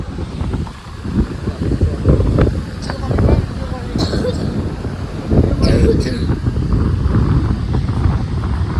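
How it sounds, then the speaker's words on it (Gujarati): Heavy sea waves surge and crash on the shore at Shivrajpur near Dwarka. A continuous loud roar of surf is buffeted by strong wind noise on the microphone, with voices talking faintly in places. "અત્યારના દરિયા કિનારે જબ્બર મોજા હોય યાર"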